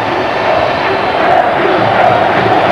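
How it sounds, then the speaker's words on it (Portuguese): A football stadium crowd applauds Denilson during a Flamengo versus Santos Brazilian championship match in 2000, a steady, dense roar of clapping and cheering from a large crowd filling the whole stretch. "Aí estão os aplausos para o Denilson"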